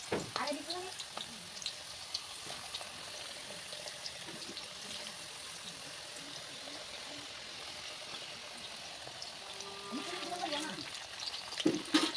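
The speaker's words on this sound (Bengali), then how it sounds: "এগুলি কিন্তু আমার হয়ে গেছে ভাজা, এখন বাকিগুলি ভাজবো।" Homemade potato chips frying in oil, a faint, even sizzle with occasional clatter of stirring that grows busier near the end, no clear speech.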